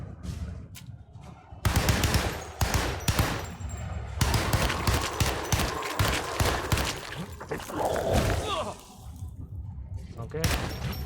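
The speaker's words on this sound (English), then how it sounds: "Machine gun." Bursts of machine gun fire ring out in the Alone in the Dark video game, with repeated rapid volleys and single sharp shots throughout, mixed with game effects and a voice talking over them.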